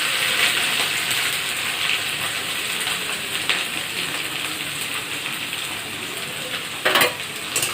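Onions fry in hot oil for chicken korma, giving a steady, close broadband sizzle throughout with occasional louder stirring clatters and spoon scrapes near the end.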